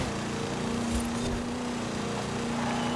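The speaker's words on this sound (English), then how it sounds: "We sound like a lawnmower right now." A car engine buzzes like a lawnmower at speed, a steady loud droning hum with a constant pitch, alone and without any talk.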